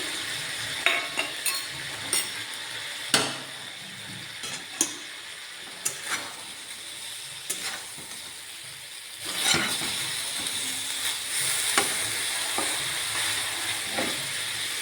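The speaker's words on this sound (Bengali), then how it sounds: "আর একটু উপর থেকে বাটার দিয়ে দিচ্ছি" Butter sizzling in a hot pan while butter garlic chicken finishes cooking, a steady close hiss broken by scattered pops and spatters, with a louder burst near the middle and no talking.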